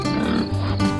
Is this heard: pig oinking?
yes